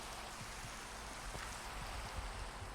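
Rain in the video game Minecraft falls as a constant, faint, even hiss, with small drip-like taps scattered through the wash of sound.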